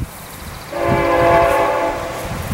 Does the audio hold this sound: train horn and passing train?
yes